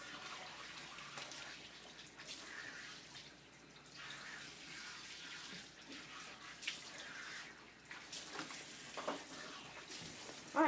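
Water splashing steadily as a dog is bathed at a grooming salon, a continuous wet wash of spray and sloshing with small bursts near the end.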